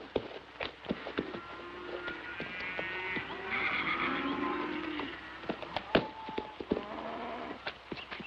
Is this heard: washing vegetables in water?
no